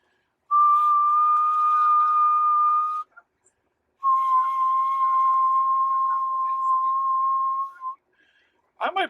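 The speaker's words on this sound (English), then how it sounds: "I might be whistling at 3 or 4 hertz." A person whistles two long, steady single-pitch notes separated by a short pause, clear and close, followed by a brief click.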